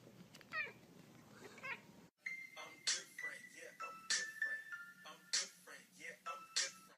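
A cat meows repeatedly at close range in a string of short, insistent cries, with a brief gap early on, while a person talks quietly nearby.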